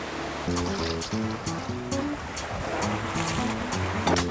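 Sea waves wash steadily along a seaside shore where fish are being caught, a continuous broadband surf beneath a melodic music track that plays throughout.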